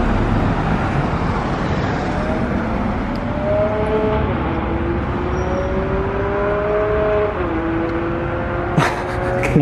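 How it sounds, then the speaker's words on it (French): Monaco street traffic hums nearby, with a steady rumble of cars and engines moving through a busy square, some rising and falling as vehicles pass. "Le trafic monégasque."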